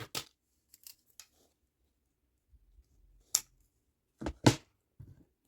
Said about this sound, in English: And what you can do is cut this little string off.